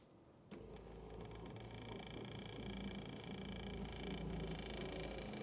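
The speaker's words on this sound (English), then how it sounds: "So now we're going to motor our seat forward." Electric seat motor in a Jaguar XK8 driving the seat forward along its runners: a steady whirring motor hum that starts abruptly and runs continuously, close and moderately quiet, with no talking.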